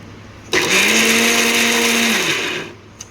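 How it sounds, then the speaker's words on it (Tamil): A mixer grinder runs to grind soaked lentils into coarse vada batter, starting abruptly with a loud steady whine that holds for about two seconds, then winds down and stops, close by. "மிக்சி ஜாரில் போட்டு நல்லா குழன்னு அரைக்கக்கூடாது, மையாமலேயும் அரைக்கக்கூடாது, திட்டமாக அரைச்சிக்கணும்"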